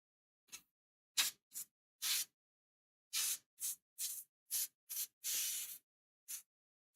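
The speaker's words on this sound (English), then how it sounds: "I'm going to load up the airbrush with a different turquoise, a little bit more darker" An airbrush sprays turquoise paint in about a dozen short, separate hissing bursts of varying length, close and fairly quiet, with silence between each pass and no talking.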